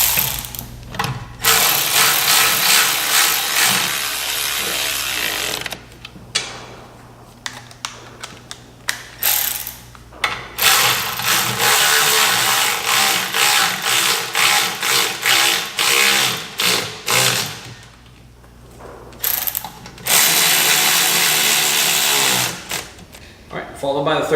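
Ratchet wrench tightening the third member bolts on a Ford 9 inch rear end in a home garage: long runs of rapid, loud, close clicking, broken by brief pauses between bolts, with a voice talking at times.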